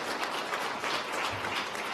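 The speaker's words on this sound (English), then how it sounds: "I'd like to ask that first you give everyone on our panel a round of applause." Audience applause for a conference panel, a dense steady wash of many hands clapping that fills the whole stretch at moderate loudness with no talk over it.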